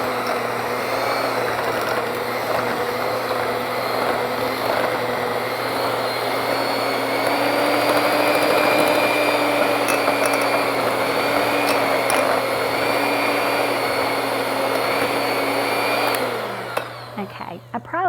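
An electric hand mixer beating butter for low carb muffins runs loud and steady with a constant whine for about sixteen seconds, then winds down and stops.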